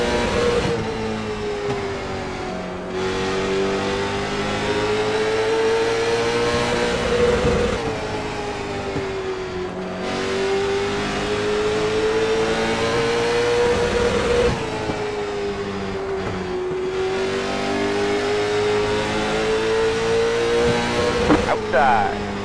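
Late model stock car engines racing in iRacing at Lanier National Speedway, a loud continuous roar that climbs and drops in repeating cycles as the car laps, with a voice speaking briefly over it.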